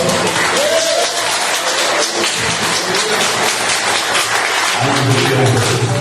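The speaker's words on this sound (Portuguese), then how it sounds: "Você pode aplaudir o nome do Senhor?" A church congregation applauds loudly after a pastor's sermon, a dense continuous wash of clapping that fills the room, with a low rumble toward the end.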